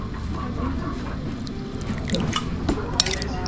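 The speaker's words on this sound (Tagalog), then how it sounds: "Lagyan lang natin ng konting tubig" A little water is poured into a pan of crab and shrimp being cooked, giving soft splashing and dripping with light clinks of cookware, under faint kitchen background.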